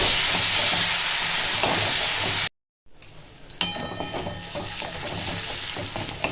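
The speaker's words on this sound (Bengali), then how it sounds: "1 চামচ হলুদ গুঁড়ো, এটা একটু ভালো করে আমি কষিয়ে নেব।" Turmeric powder and spices fry in a pan, giving a dense, steady sizzle up close. After a short silent gap the sizzling returns quieter, with light stirring clicks.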